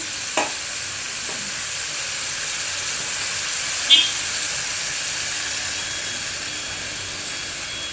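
Small fish with raw tomato and potato fry in a pan, cooked village style, giving a soft continuous sizzle with a couple of brief stirring clicks and no talk.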